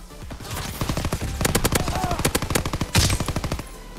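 A PPSh submachine gun fires in the video game Call of Duty WW2 on the Egypt map. It lets off loud, rapid bursts of close shots in rattling strings, with a short pause near the middle.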